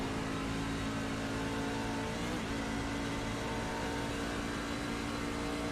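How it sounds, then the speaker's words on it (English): A race truck engine in a racing video game drones steadily under throttle, a continuous buzzing roar with shifting pitch and no talk over it. "listen to this throttle input versus a truck that we were just in towards the back of the field"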